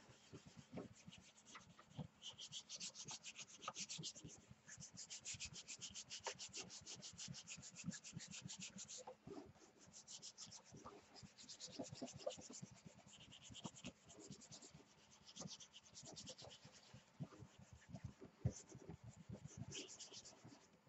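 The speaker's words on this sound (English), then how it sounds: "And I'm going to rub it a little bit longer with my hands." Hands rubbing paper over a gelli plate to transfer a print, a quiet continuous scratchy rubbing with rapid back-and-forth strokes throughout, no talking.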